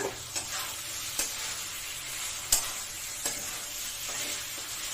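A spice paste for a Bengali chital fish dish sautés in oil with a continuous close sizzle and a few sharp clinks of a spoon against the pan.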